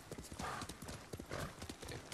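Horse hooves clip-clopping in the video game Ghost of Tsushima, a quick rhythmic run of hoofbeats at low level with faint breathy horse sounds.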